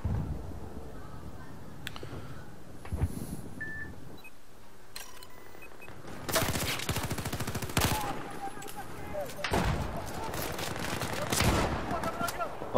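Bursts of video game gunfire in Battlefield 4, heavy booming shotgun shots mixed with rapid firing and occasional electronic beeps, loud and cluttered throughout.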